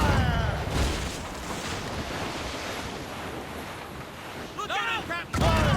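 Ship cannons fire in the video game Assassin's Creed Rogue, a heavy rumbling barrage under wind and ocean surf, with shouted voices near the end.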